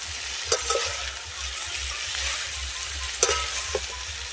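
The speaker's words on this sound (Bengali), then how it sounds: "সবজিগুলো যাতে মশলার সঙ্গে ভালো করে মিশে যায় তার জন্য একটু ভালো করে নেড়ে নিতে হবে" Fried vegetables are tossed with spices in a pan for Bengali tita, a low continuous sizzle with rhythmic scraping and two sharp spatula knocks, close and unaccompanied by speech.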